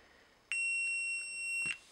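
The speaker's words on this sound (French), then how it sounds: "Le multimètre bip, on a bien contact électrique." A multimeter in continuity mode gives one clean, steady electronic beep of about a second when its probes touch copper wire, close and clear against a quiet room.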